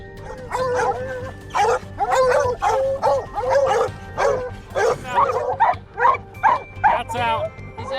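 Hunting dogs barking and yipping in a rapid, repeated series of sharp calls, close and loud, with brief whimpering notes between barks.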